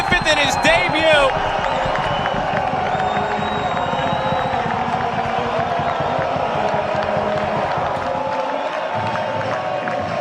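A large stadium crowd roars and cheers steadily after a second goal at a men's college soccer match, Maryland against New Hampshire, with a commentator talking over the noise.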